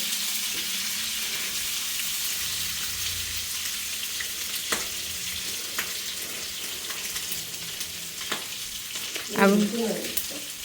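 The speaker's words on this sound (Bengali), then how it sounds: "মাংস জাল দিয়েছে এখন সেটা ভাজছে" Boiled sacrificial meat fries in a pan, a continuous close sizzle running throughout with a few stirring clatters and a louder scrape near the end, and no speech.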